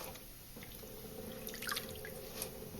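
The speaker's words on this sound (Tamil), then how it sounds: "இப்போ இந்த கீரையை இன்னும் ஒரு 2 முறை கழுவி எடுத்துக்கலாம்." Ponnanganni greens being rinsed in a bowl of water, with steady soft dripping and light splashing close by, no talk.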